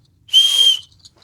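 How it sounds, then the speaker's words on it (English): A single short, loud, shrill whistle blast from a whistle on a motorcycle backpack, close up, lasting about half a second, with near silence before and after. "that, again, that's a whistle"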